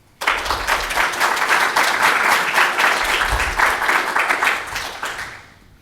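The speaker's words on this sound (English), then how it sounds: "Let's give a round of applause" An audience at an open source software conference talk gives a full round of applause, starting abruptly, holding dense and loud for around five seconds, then gradually dying away.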